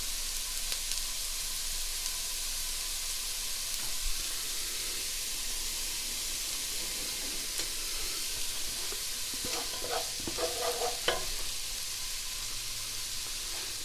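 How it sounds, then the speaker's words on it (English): Onions sautéing in a pan while cooking a fish stew, giving a steady soft sizzle and hiss throughout, with a few brighter crackles and spatters near the end. "the onions, I just want to get them slightly sauteed so they're a little bit translucent"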